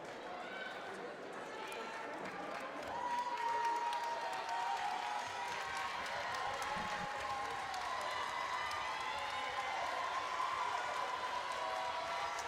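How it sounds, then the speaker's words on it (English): Fans of both teams cheer and clap in a gym during a girls high school basketball game, a steady crowd roar with shoe squeaks and commentary over it throughout. "fans from both teams cheering their players on"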